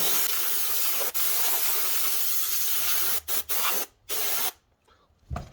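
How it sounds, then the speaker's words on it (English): Brake cleaner sprays onto the valve cover area of a 2018 Honda Accord Sport 1.5L four-cylinder engine: a close, loud, steady hiss broken by several short bursts, then fading to quiet. "I just wanna hit it with some brake cleaner"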